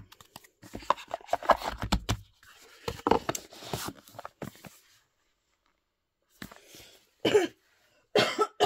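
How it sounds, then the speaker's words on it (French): A run of harsh coughs up close, a cluster of bursts, a short quiet gap, then a couple more sharp coughs. "je suis toujours en train de tousser"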